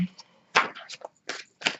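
Crisp bursts of riffling tarot cards, several short shuffles with pauses between them, close by and fairly loud, with a brief low murmur at the start.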